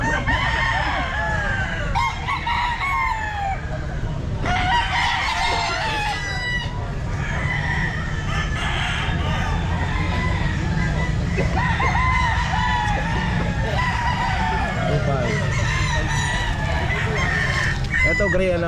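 Roundhead bullstag gamefowl at a pet market crow and cluck repeatedly, several birds overlapping close by with harsh calls over a constant crowd murmur.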